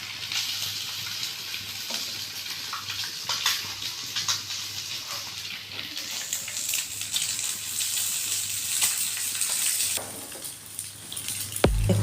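Eggs frying over a high flame in a hot pan, a continuous bright sizzle and crackle close by with occasional spatters and scraping, no talking.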